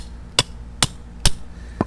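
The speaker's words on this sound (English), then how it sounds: "I'll hammer that right in at 5 feet" A hammer drives a stake into the ground, measured five feet out from a house foundation, during a deck build. Three sharp, evenly spaced strikes land about half a second apart, followed by a fainter fourth blow.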